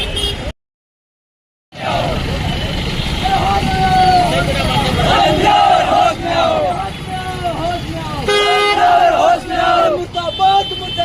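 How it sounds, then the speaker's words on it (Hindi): Bhil community protesters in Jaisalmer chant slogans against Madan Dilawar in a loud, dense crowd roar with rhythmic shouted calls and overlapping voices, after a brief silent gap at the start. "मुर्दाबाद मुर्दाबाद मदन दिलावर का विरोध प्रदर्शन करते हुए, नारे लगाते हुए सभी साथी कलेक्ट्रेट पहुंचे"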